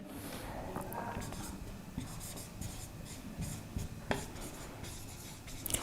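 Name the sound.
writing on a board during a lecture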